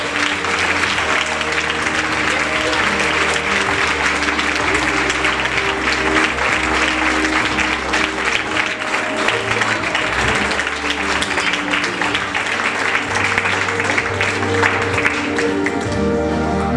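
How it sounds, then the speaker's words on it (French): An audience applauds after a conference in a dense, sustained burst of clapping lasting the whole stretch, steady and full, with some tonal background underneath. "On peut l'applaudir maintenant."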